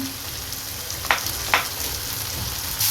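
Ground roasted masala frying with tomatoes in a pan for Chettinad pepper chicken sukka, a steady close sizzle with a couple of sharp stirring scrapes.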